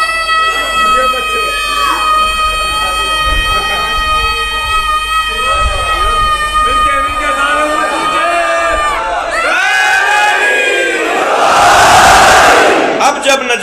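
Crowd at a Shia majlis mourning gathering commemorating Imam Sajjad, many voices raising religious slogans together, a loud sustained chorus that swells into a louder burst of shouting near the end.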